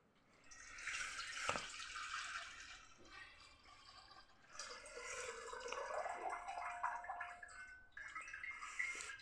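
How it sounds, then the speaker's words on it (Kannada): Water splashes and sloshes faintly as homemade butter is washed in a bowl, swirling and trickling in irregular bursts. "ಈ ಥರ ನಾನು ನೀರು ಹಾಕಿ ತೊಳ್ಕೊಬೇಕಾ ಬೆಣ್ಣೆನ."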